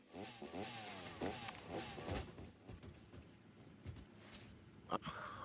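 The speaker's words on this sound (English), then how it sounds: "I'm chasing your chainsaw." A chainsaw in the video game Satisfactory buzzes and revs in quick, rising pulses, quiet and somewhat distant, with scattered knocks and game noises around it.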